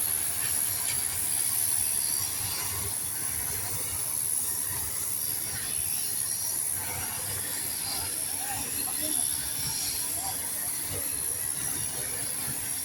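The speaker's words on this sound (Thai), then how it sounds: "ออกจากสถานียุทธยาครับ ไปกับขบวนรถ" A steam locomotive train pulls out of Ayutthaya station on a royal birthday celebration run, a continuous loud hiss and rumble of rolling wagons with steady rail noise and no clear speech.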